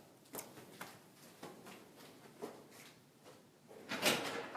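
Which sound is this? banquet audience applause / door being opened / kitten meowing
door being opened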